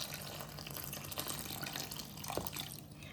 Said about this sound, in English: Now we would add our ice water.